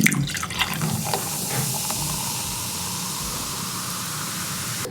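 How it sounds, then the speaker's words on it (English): Sparkling water poured into a blended mixture for a scalp treatment, a steady fizzing, bubbling hiss that stays even and close after a few brief splashes at the start. "finally I add sparkling water, but you can use still water as well"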